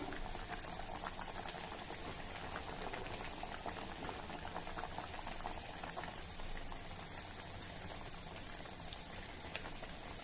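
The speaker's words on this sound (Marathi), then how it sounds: "तेल नीट गरम झालं की मध्यम आचेवर आपल्याला वड्या तळायच्या आहेत" Spinach vadis shallow fry over medium heat in hot oil, a dense, even crackling sizzle that holds steady throughout at a faint level without a pause, with no voices.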